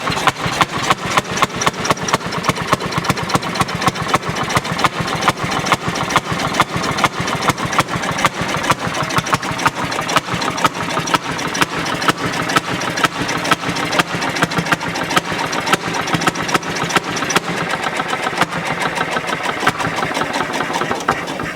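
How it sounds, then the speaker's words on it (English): A Fairmont S-2 railroad motor car engine fires up and settles into a steady, loud idle, its rapid regular firing pulses continuing without a break and no talking over it. "So after the engine starts, the first thing we're going to do is trying to get it to idle."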